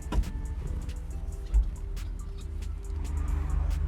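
A 1964 Ford Galaxie 500 with its 390 V8 idles with a steady low rumble, a couple of brief clunks from the transmission going into drive, and the engine note swells slightly near the end.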